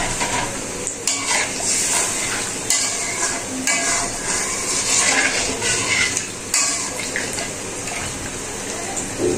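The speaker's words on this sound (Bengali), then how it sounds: "মশলা একদম মানে তেল উপরে না আসা পর্যন্ত ভালো করে কষিয়ে নিতে হয়।" Spice paste fries in oil in a pan while it is stirred and scraped, a continuous sizzle broken by clattering stirs and knocks of the utensil against the pan, close and fairly loud.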